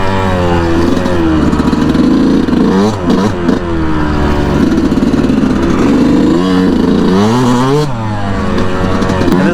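A Yamaha YZ125 two-stroke dirt bike engine runs close and loud, revving up and down repeatedly with a raspy, buzzing tone and brief dips between blips of the throttle.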